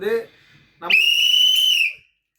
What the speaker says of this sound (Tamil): நீங்கள் விசில் அடிங்க